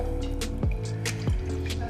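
Water, 250 grams, goes into a batch of wet cake ingredients with eggs and oil, heard as a few close drips and splashy liquid pours over a faint humming background.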